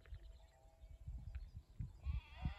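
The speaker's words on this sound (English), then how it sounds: "Can you hear the sheep?" Faint sheep bleat from a distance on New Zealand's South Island, a brief wavering call near the end, under gusty wind noise and low rumbling.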